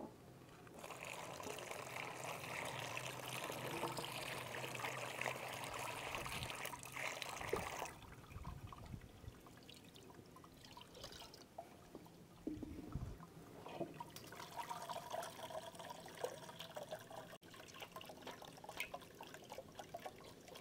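Room-temperature water is poured over cooked rice in a strainer, a faint, continuous trickling and splashing that shifts in intensity as it drains.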